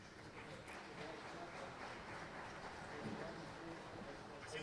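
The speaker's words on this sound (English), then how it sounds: "So just applauding for these 2 awards." Audience applause at the Technoprom-2019 science forum as two awards are presented, a steady dense wash of clapping from a large hall crowd that holds evenly throughout without a break.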